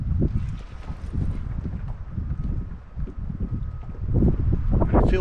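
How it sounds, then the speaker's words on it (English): Loud wind gusts buffet the microphone on a fishing boat on open water, a continuous low roaring rush that swells and surges near the end. "if y'all can hear me, over that wind"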